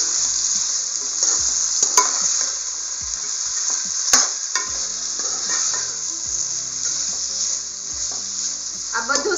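Chopped vegetables and ivy gourd get stirred in hot tempering oil for masala khichdi, giving a loud, close, constant sizzle punctuated by sharp spoon clicks and scrapes against the pot.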